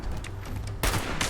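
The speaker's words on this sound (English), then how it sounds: "Can you hold still so I can shoot you properly?" Gunfire from a firearm in the video game Fallout 76: a steady, dense battle-noise bed, then a sudden loud, sharp blast near the end that stays harsh and full.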